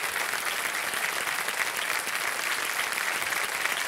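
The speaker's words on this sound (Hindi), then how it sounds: "और जोरदार तालियां बज जाएं इनके लिए।" Studio audience applause on a quiz show hot seat, steady dense clapping from a large crowd, loud and continuous throughout with no pause.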